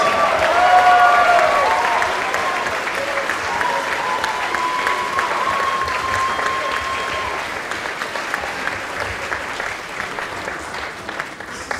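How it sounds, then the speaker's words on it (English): Sustained applause from a crowd at the Summer of Sonic 2013 live event, steady and dense clapping that continues without pause, slowly easing in intensity. "Give them a big round of applause,"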